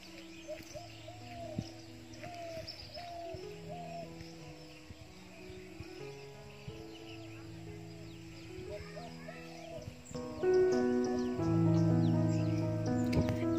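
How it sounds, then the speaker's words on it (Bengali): Assorted birds call in a garden near the Atrai River, faint chirps and hoots scattered over steady background hum, with louder tonal sounds swelling near the end. "নানান রকমের পাখির ডাক এখানে শুনতে পাচ্ছি"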